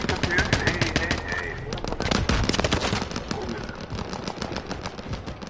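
Dense, rapid gunfire from Call of Duty Modern Warfare crackles almost without pause, loud and close, with automatic bursts layered over a constant battle din.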